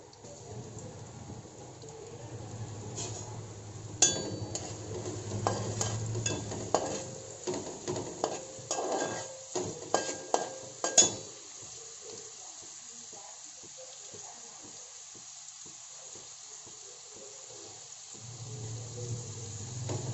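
Onions and green chillies fry in oil in a pan, a steady sizzle broken by a cluster of loud spoon scrapes and knocks midway, then quieter crackling before the sizzle swells again.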